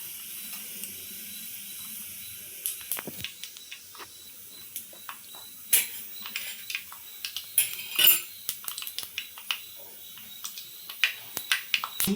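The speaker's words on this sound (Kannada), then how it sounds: "ಅದು ಚೆನ್ನಾಗಿ ಸಾಸಿವೆ ಜೀರಿಗೆ ಸಿಡಿಬೇಕು, ಈ ಥರ ಚಟಪಟ ಅಂತ." Mustard and cumin seeds sputtering in hot oil, a scatter of sharp crackling pops and sizzling hisses of varying loudness, close and irregular, with no talk.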